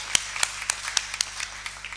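Audience applause during a church service, a loose scattering of sharp individual claps spread unevenly through a short stretch, fairly close and moderately loud, with no voices over them.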